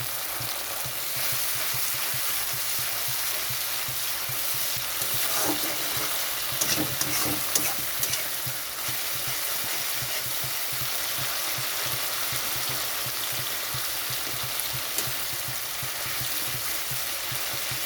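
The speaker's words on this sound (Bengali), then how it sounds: "এখানে একটু জল দিয়ে দিচ্ছি আরও একটু কষানোর জন্য।" Masala for a Bengali fish curry sizzling hard in hot oil with a little water added, a dense continuous crackling hiss held loud and close, with brief stirring scrapes near the middle.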